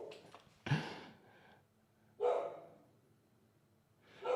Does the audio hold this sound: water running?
no